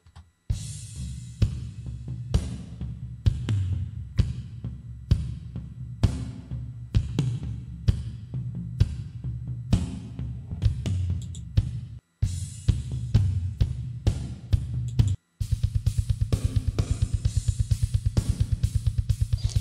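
A drum kit for doom death metal plays a steady beat, dry and unprocessed, with punchy kick and snare hits and cymbals. Near the end it shifts into a fast, continuous rolling pattern.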